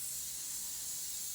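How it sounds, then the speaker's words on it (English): A steady aerosol spray hisses continuously at close range as a product is sprayed onto feet, a broad even rush with no talking. "Just spray them real good,"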